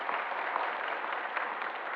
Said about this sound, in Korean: 70세 이상 어르신들에게 감사의 박수를 드리도록 하겠습니다.